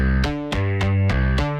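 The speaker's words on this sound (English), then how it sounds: "So the bass by itself sounds like this." Synthesized bass part heard on its own, five punchy repeated notes in a quick, even rhythm, loud and clear with no other instruments.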